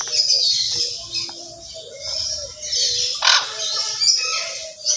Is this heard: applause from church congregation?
no